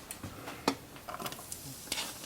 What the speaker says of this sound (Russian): Жарим наш лук и морковку.